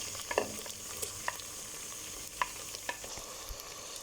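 Tomatoes tipped into a hot frying pan for dal palak sizzle softly while a spoon scrapes and stirs in a few sharp clinks and knocks, with a steady background hiss and no talk.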